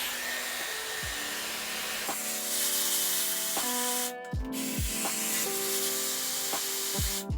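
A Dyson Airwrap hair styler runs on high heat and high speed, blowing a loud, continuous airy rush near the listener, with short dips and surges as the airflow shifts.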